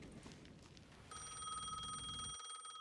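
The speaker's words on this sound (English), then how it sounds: "The payphone was ringing again." A payphone in Alan Wake 2 rings with a bright, shrill electronic bell tone that starts abruptly partway through and sounds continuously and close, with a low rumble dropping out near the end.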